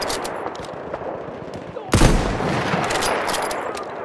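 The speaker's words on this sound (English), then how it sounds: "MG, feindlich!" Gunfire from an enemy machine gun in the video game Battlefield 1, heard as a sustained bright crackle of shots that jumps sharply louder partway through and stays dense and loud to the end.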